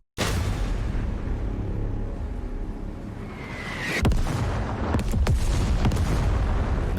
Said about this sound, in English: There's explosions happening.